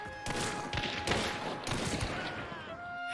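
Dolch 96 firing in a video game, rapid bursts of shots in a dense, fast rhythm running continuously, with a narrator's voice partly over the gunfire.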